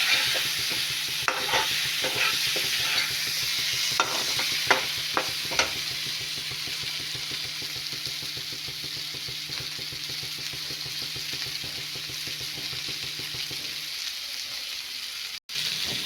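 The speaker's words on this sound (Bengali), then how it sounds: "একটা টমেটো দিয়ে দিয়েছি, ভালো করে ভাজা হয়ে গেছে মশলাটা।" Spice masala with tomato frying in a pan makes a constant close sizzle, with rhythmic stirring scrapes and clicks over the first stretch. The scrapes stop near the end and only the sizzle carries on. Nobody speaks.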